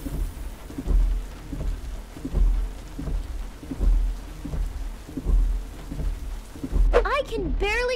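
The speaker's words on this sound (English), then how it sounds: "The rain is a lot" Heavy rain pours steadily in a Roblox Bloxburg thunderstorm, with repeated deep thunder rumbles rolling in every second or so, and a brief voice-like chirp near the end.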